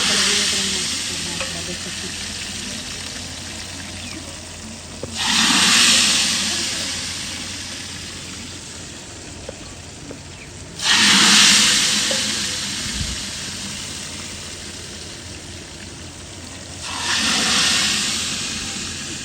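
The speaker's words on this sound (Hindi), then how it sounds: "तड़का जी लगाने लगे हैं" Loud sizzling of spices dropped into hot oil, three bursts of hissing that swell and fade over steady background noise.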